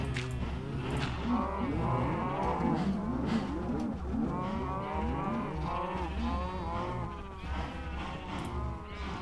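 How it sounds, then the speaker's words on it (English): A crowded pen of Minecraft cows lows repeatedly, many overlapping moos rising and falling in a steady chorus, near and fairly loud throughout. "But now we have these cows in here."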